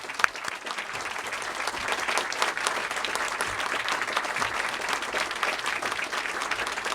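Sustained, dense applause from a lecture audience welcoming a speaker to the stage, steady clapping from a large crowd throughout with no break.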